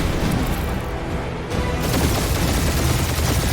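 Continuous heavy gunfire in a Guardians of the Galaxy battle, a dense roar of shots and impacts with no break, loud throughout.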